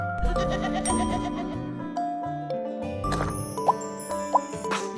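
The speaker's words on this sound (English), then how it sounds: "Sheep." A sheep bleats over a busy musical backing with chimes and plopping notes, the wavering call standing out briefly near the front.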